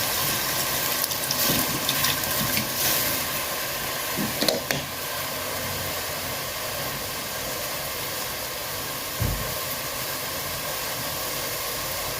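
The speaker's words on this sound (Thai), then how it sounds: "แม่ก็จะเติมน้ำ" Water pours into a cooking pot of Thai sour bamboo shoot curry with free-range chicken, a steady rushing splash held at an even level, with a couple of brief knocks over it.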